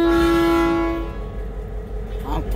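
A train horn sounds one long, loud tone, then trails off into the rumble of the passing train and rail noise.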